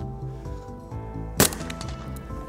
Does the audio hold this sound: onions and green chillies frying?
no